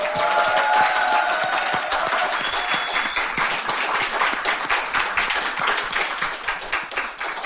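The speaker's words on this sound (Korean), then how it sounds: "이렇게 연출되는 환호성, 박수 소리 뭐 이런 거 안 해도 되지만 그렇다고 뭐 굳이 말리지는 않겠습니다" Concert audience clapping and cheering, a dense, lively burst of many hands close and loud throughout, with scattered whoops over the applause.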